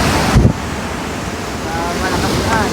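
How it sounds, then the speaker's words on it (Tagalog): Heavy surf roars continuously, with wind buffeting the microphone and a brief thump near the start. "Malakas ang alon, ano?"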